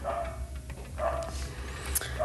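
A dog barks indoors in short, muffled yips and woofs, a few brief bursts at middling distance over a low steady room hum.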